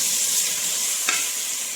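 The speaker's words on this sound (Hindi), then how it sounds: "अब हम अदरक लहसुन के पेस्ट को 2 मिनट भूनेंगे" Ginger garlic paste fries in a pan with golden onions for aloo gosht, a steady close hiss and sizzle broken by one brief stirring scrape.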